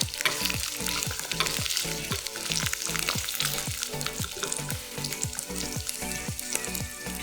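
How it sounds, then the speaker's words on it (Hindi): Mushrooms sauté in a pan with a continuous close sizzle and frying crackle, broken by regular stirring scrapes throughout. "ओके, मशरूम सौते हो रहे हैं"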